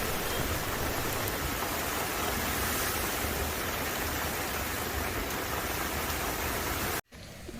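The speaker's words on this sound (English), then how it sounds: "So much water coming from rainwater pipes." Heavy storm rain pours in Pearl City, Hawaii, with water gushing from rainwater pipes as a loud, unbroken hiss and rush that cuts off abruptly near the end.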